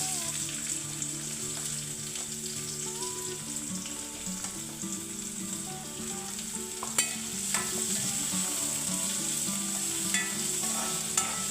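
Onions frying in a heated pan for a Konkani-style prawn curry, with a steady close sizzle and crackle throughout and occasional sharp pops and utensil clicks.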